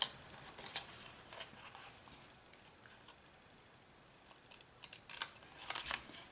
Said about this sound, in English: it's really important to have a really good sharp pair of scissors.